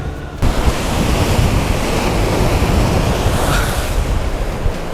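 Strong sea waves crash against the rocks at Laem Promthep, a dense, steady roar of surf mixed with gusting wind buffeting the microphone, loud and continuous throughout.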